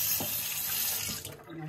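Lukewarm water runs steadily from a kitchen tap into a sink, a close, continuous splashing hiss that thins slightly near the end.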